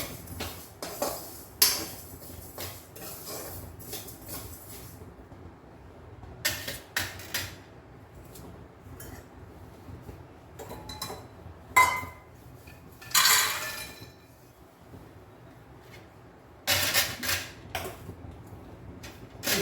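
Roasted flaxseeds tipped from a pan onto a plate, giving scattered clinks and scraping of utensil against metal and dish in several short bursts with quiet gaps between.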